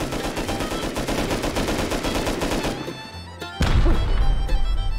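In the game Rust, a rocket fires during an offline raid: rapid gunfire bursts rattle first, then a heavy, loud blast booms and rumbles out.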